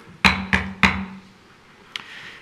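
A gavel strikes three times in quick, evenly spaced succession to open the 51st Royal Oak City Commission meeting, each knock sharp and close with a short wooden ring, then a lighter tap follows in a quiet room.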